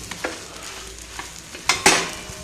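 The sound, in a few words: chapati pressed and cooking with oil on iron pan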